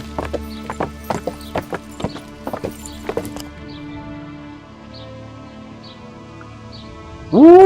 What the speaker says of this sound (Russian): Конь!